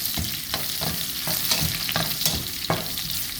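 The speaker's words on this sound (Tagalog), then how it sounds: "Let's saute ginger." Ginger sautéing in a pan: a steady sizzle runs throughout, broken by a regular series of spatula stirs and scrapes about every third of a second, close and moderately loud.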